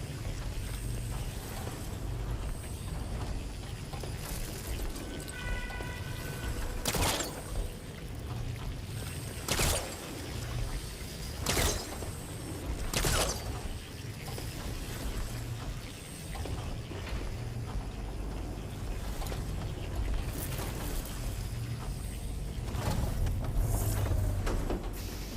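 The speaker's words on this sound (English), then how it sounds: "Looks like parts of those pillars are rotating." Stone pillars and gears rotating in the game Horizon Forbidden West: grinding mechanical turning and ratcheting under a low rumble, with several sharp clanks punctuating the steady churn.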